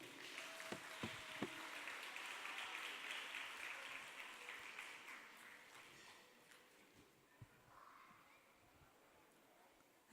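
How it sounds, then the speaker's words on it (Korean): An audience at an urban farming talk concert applauds a young singer-songwriter, a soft, dense wash of many hands clapping that holds for several seconds, then thins and fades away. "여러분 큰 박수로 함께 해주시기 바랍니다"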